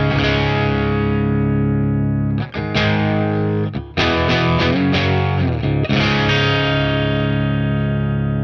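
Electric guitar through a Stone Deaf PDF-1X distortion pedal with all knobs at noon, thick saturated chords ringing out, a few quick strummed hits in the middle, then a long sustained chord, loud and continuous.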